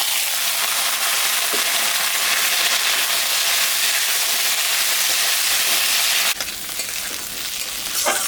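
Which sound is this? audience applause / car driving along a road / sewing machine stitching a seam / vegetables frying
vegetables frying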